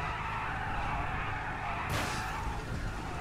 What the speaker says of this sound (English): we got cops out here doing burnouts